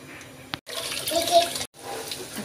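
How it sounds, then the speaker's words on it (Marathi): Rice for mutton biryani is poured into a pot of heating water spiced with whole spices, giving a soft splashing, trickling sound in short bursts broken by brief gaps, close and fairly quiet. "पाणी अजून थोडंसं गरम झालं त्यात आपण याच्यामध्ये तांदूळ टाकून देऊया"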